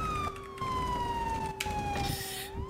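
A police car siren wails in a slow descending sweep and then rises again, steady and moderately close, over a constant hum of traffic and ambient noise.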